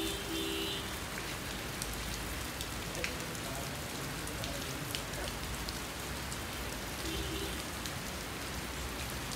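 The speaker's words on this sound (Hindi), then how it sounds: "इतनी तेज़ बारिश हो रही है" Heavy rain pours down steadily around a shed roof in a village with cattle sheltering below, a loud, continuous wash of dense drumming that holds unbroken from start to end.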